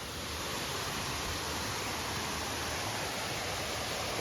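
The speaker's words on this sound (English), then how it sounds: "So we're at the waterfall anyway." A waterfall beside a creek trail gives off a steady, even rush of falling water. It holds at a constant level throughout with no voices, like a broad wash of noise from a moderate distance.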